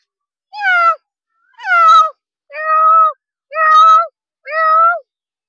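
A voice imitates a cat, giving five drawn-out meows at a steady pace, close and loud, with short pauses between them.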